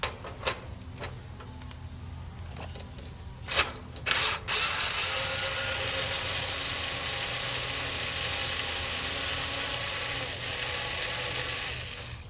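Ratchet turning a 1/4 inch socket while a heat pump defrost control is installed, a few sharp clicks early, then a steady mechanical whir that runs on to the end.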